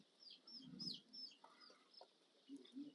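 Faint, high-pitched peeping of egg-laying pullet chicks on a poultry farm, several short chirps scattered quietly over a few seconds.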